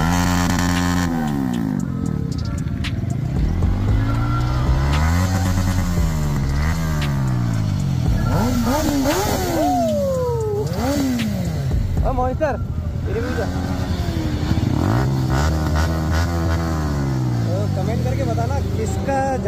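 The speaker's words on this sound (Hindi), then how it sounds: "भाइयों वन बाय वन रेव करेंगे अभी" Kawasaki ZX-10R superbikes revved in turn, loud engine notes sweeping up and down in pitch with sharp throttle blips, continuous throughout with people talking over the engines.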